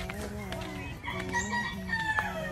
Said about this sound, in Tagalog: Ang daming chicken. Manukan ng bayan.